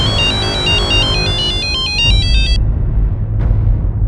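A phone ringtone plays a repeating electronic melody for about two and a half seconds to signal an incoming call, loud over a low hum, then cuts off.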